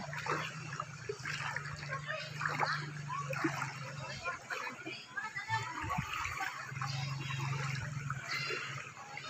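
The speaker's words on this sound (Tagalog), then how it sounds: "Parang hindi ako makalakad sa lakas ng, ano, agos ng tubig." Strong floodwater rushes through a street in a flooded neighborhood, a continuous churning splash and slosh heard up close while a person talks over it.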